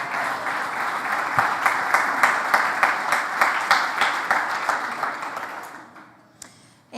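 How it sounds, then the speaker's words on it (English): Audience at a film production panel applauds in a steady, dense burst of clapping that holds for several seconds, then thins out and fades away near the end. "So give them a big round of applause."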